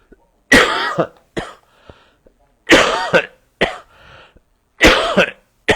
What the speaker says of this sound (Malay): batuk masih ada lagi, ya.